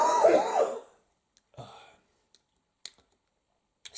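A single short cough sounds near the start, followed by a few faint clicks and small rustles in an otherwise quiet room.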